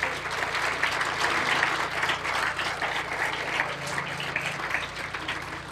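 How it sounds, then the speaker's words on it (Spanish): Sustained applause from a church congregation, steady clapping filling the space for several seconds without a break. "denle un fuerte aplauso a Dios"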